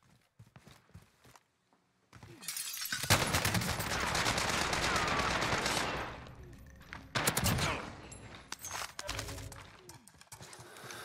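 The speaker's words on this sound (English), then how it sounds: "That was such a rough gunfight" Rapid bursts of gunfire in a Call of Duty Warzone gunfight with a Tec-9 SMG, a sustained loud volley followed by shorter crackling bursts and scattered footstep-like thumps, close and fairly loud.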